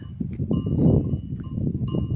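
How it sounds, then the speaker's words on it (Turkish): Flock of sheep of about ten breeds, including Merino and Akkaraman, grazing in a wheat field, with busy low animal sounds and a possible cowbell clank running steadily throughout. "burada 10 farklı cins koyun var"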